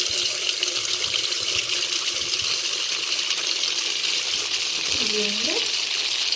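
Salted appam batter is poured into hot oil and fries with a loud, steady, hissing sizzle that fills the scene, while someone talks over it.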